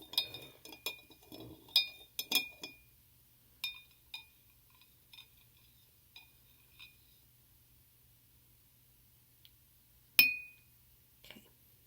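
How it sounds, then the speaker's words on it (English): A few light glass clinks sound as a glass container holding aquatic isopods is stirred, with scattered faint taps and one sharper ring near the end against a quiet background. "I'm going to give it one more little stir."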